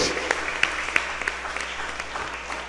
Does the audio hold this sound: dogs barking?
no